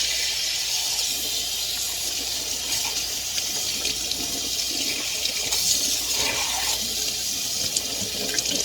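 Beef rinsed under a running tap: a steady, close rush of water splashing into a sink, continuous and fairly loud throughout, with no talk.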